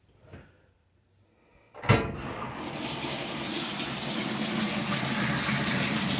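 A top-loading washing machine with a lid lock starts filling: after a near-silent moment and a soft knock, a sudden rush of water swells into a steady, loud, continuous flow.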